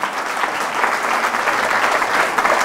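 A church congregation bursts into loud, sustained applause after a Gospel reading, many hands clapping in a dense roar that holds steady throughout.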